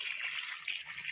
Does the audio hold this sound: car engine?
no